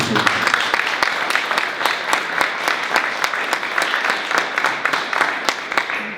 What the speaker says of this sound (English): So give them a round of applause as well, too.